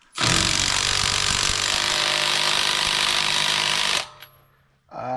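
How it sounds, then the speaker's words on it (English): An impact wrench runs hard on a car's locking lug nut, a loud steady mechanical whirring held for about four seconds, then stopping abruptly, with a brief rustle after. "So let's see if we can get it off with our impact wrench."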